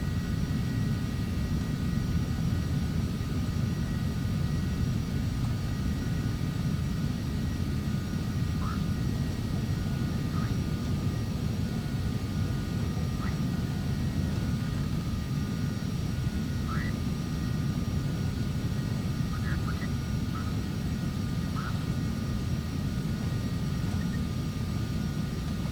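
An airplane in the FSX flight simulator, Steam edition, lining up on runway 34 left at Tokyo for takeoff: a steady, loud engine roar that runs unbroken, with faint high whines on top.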